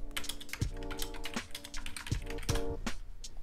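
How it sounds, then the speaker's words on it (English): An address being typed on a computer keyboard, with rapid, close key clicks running steadily and a few heavier taps, probably the space bar or enter key, over a low background hum. "it didn't like that address, so I gotta type the whole thing"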